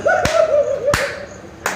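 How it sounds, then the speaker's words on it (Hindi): Three sharp, evenly spaced hand claps ring out over a sustained voice, as a person laughs and claps along. "हंसने वाला व्यक्ति ताली बजाता है"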